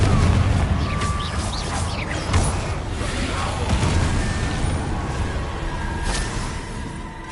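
Confringo blasting spell explosion in Hogwarts Legacy, a loud booming blast at the start that rumbles and decays, followed by further thuds and crashes over a sustained noisy backdrop.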